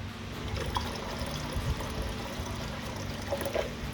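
Distilled water poured into a metal solution while refining gold from gold-filled watch band tops, a steady low trickle and splash running throughout at moderate level, with no talking.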